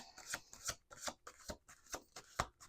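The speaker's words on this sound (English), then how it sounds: "We're going to do 2 more shuffles." Tarot cards being shuffled by hand, a series of quick riffling bursts repeating roughly every half second, close and clear with no talking.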